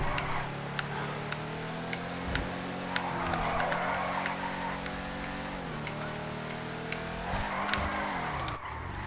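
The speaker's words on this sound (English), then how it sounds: "Now this is more like slow burnouts down the street" A Declasse Drift Tampa in GTA Online does slow burnouts down a street, with a loud droning engine whose pitch rises and falls under continuous tire squeal and scattered ticks.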